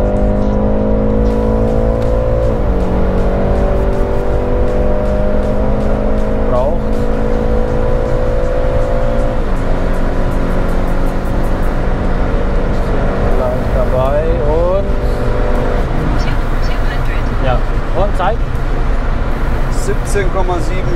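A BMW 330i G20 four-cylinder runs flat out from 100 to 200 km/h, its engine note climbing steadily through each gear with brief dips at the shifts, droning loud inside the cabin.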